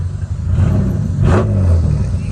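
BMW E36 M3 with a six-speed gearbox revving hard, a loud close engine roar with a sharp rising surge in the middle of a steady rumble.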